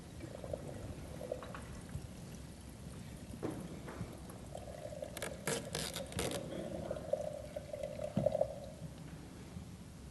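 Water runs steadily in a window sill track during a leak test, a faint gurgling trickle and pour with a few brief louder splashes partway through.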